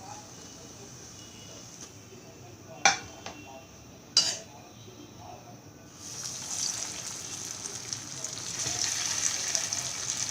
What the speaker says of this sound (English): in this way I will fry the rest of my dahi kebabs